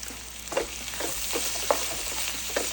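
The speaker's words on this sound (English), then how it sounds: "onions have cooked down a little bit, I'm gonna add a little bit of garlic" Onions and garlic fry in a pan with a steady, moderate sizzle, broken by a few soft scraping stirs at irregular intervals, and no talking.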